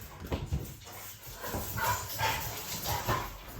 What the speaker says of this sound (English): Excuse the noise of the dogs in the background because I can't help that.